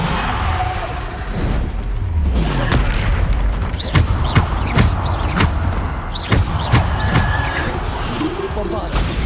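Depulso spell blasts from Hogwarts Legacy combat, a series of repeated booming thumps and whooshing impacts in quick irregular succession, loud and busy, with a voice shouting spell names over the fray.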